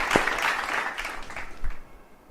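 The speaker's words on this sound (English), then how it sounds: "Congratulations to the winner and a big round of applause." An awards audience at an investor relations ceremony applauds winner RBL Bank, a short burst of moderate clapping that thins and fades within a couple of seconds.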